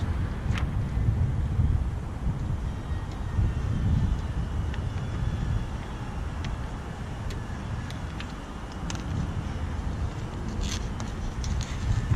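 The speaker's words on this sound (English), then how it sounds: "This is the wind." Outdoor wind beside a Duramax van buffets the microphone in a steady low rumble that rises and falls in gusts, with a few faint clicks scattered over it and no voices.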